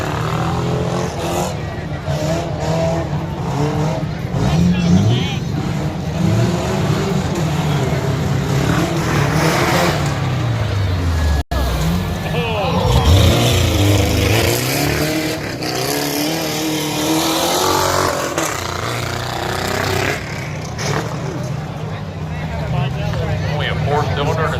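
A 1985 Subaru Brat four-cylinder tuff truck, running rough on a one-barrel carburetor, revs and labors loudly through a dirt competition course. The engine surges and falls repeatedly while a commentator talks over it.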